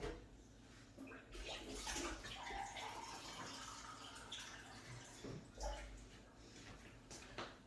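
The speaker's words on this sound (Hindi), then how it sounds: "अभी 1 गिलास जो है वो भर के इसमें पानी डालेंगे।" A glass of water is poured into a pot of whole chicken while making shami kabab. The result is a soft, close splashing gush with faint drips that runs for several seconds, with quiet kitchen noise and no talking.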